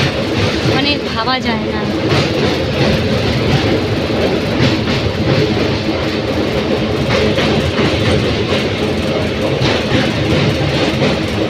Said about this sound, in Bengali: এখান দিয়ে ট্রেনটা যাচ্ছে